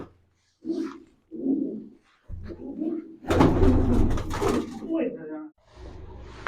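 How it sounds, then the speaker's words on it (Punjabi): Old domestic pigeons at home give a few short coos close by, separated by pauses, while someone talks over them and a brief clatter breaks in partway through. "ਪੁਰਾਣੇ ਕਬੂਤਰ ਆ ਇਹ"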